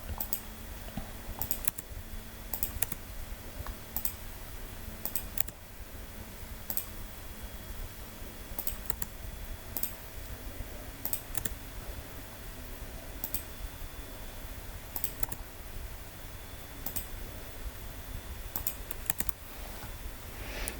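Computer keyboard and mouse in use: an Enter key pressed and a mouse clicked in a steady alternating pattern over a constant background hum, repeated sharp clicks throughout with no talk.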